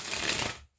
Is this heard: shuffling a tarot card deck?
yes